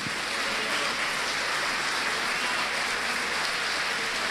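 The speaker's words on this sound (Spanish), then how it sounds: "Alguien dele un aplauso al Señor esta mañana." Steady, moderately loud clapping from a church congregation during a Spanish-language service, a continuous even wash of many hands with no voices over it.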